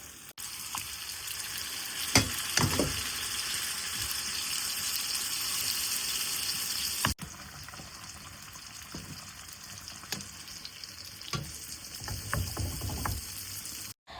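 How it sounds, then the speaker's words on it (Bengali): Shrimp fried in a home pan with onion and light spices, a steady close sizzle with intermittent stirring clatters and scrapes and a short break midway, no talking. "হালকা মশলা পেঁয়াজ দিয়ে ফ্রাই করিলাম"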